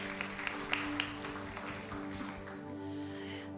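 A church congregation breaks into scattered applause, with a few sharp claps up front that thin out under sustained, ringing musical tones during a worship service.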